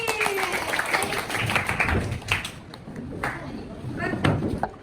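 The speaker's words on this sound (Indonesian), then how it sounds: "tepuk tangan lagi." A class claps hands together in a classroom session, irregular bursts of claps and taps with voices and chatter running over them throughout.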